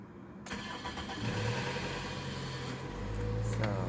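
A car engine cranks and catches before dawn, then settles into a steady close idle with a low rumble that swells slightly near the end, ahead of a long road trip.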